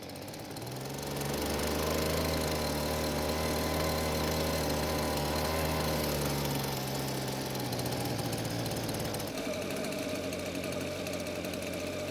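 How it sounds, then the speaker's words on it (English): A Husqvarna leaf blower's small two-stroke engine starts and runs at a steady high drone, then the pitch drops partway through as it warms up and it keeps running unevenly. "it started and ran good for a minute there, but as it warmed up, the engine slowed down and stopped"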